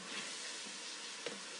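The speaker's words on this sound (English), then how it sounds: "So I've let that get a little bit brown, and now I'm kind of scraping it off." Browned bits in a stockpot sizzle steadily while being scraped loose for a color stock, a continuous close frying hiss with one brief scrape accent near the end.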